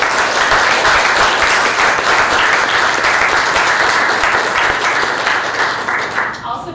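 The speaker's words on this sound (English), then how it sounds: "maybe we can give one more big round of applause" Sustained applause from an audience at a talk about Coast Salish heritage fills the room loudly and evenly, dense clapping lasting several seconds before starting to thin out at the end.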